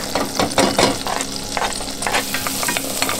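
Garlic sizzles in olive oil and butter in a saucepan, a close, continuous frying hiss with repeated scraping stir strokes throughout.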